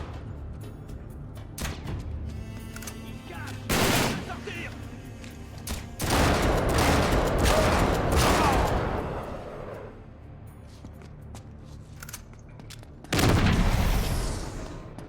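Gunfire rings out in the video game Uncharted 3, loud bursts of shots and booming blasts in several clusters separated by quieter stretches, with faint voices in between.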